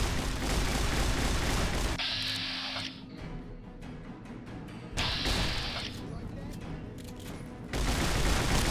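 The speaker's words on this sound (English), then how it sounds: "I don't know who's shooting." Gunfire in Fallout: New Vegas, heavy sustained bursts of shots in loud stretches with quieter gaps between them, an unseen shooter firing repeatedly over a game soundscape.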